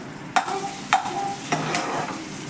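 Cumin, dried red chillies and curry leaves sizzling in hot oil for jeera rice, a close, continuous crackle punctuated by three or four sharp stirring clacks against the pan.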